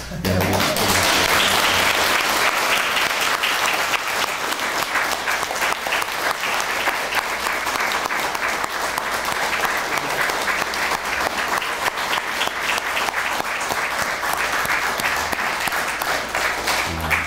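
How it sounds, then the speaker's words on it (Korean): Sustained, dense applause from a church congregation at a pastor's installation service, loud and even throughout with no break, a few faint voices buried beneath the clapping. "그런 마음을 담아서 아까보다 배로 박수 치셔야 됩니다"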